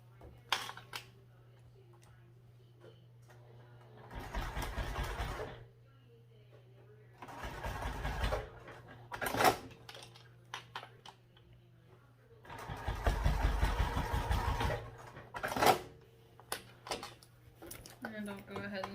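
Sewing machine stitching the sides of a sewing project a quarter inch in, several separate bursts of fast, loud whirring, with quiet handling noises and pauses between runs.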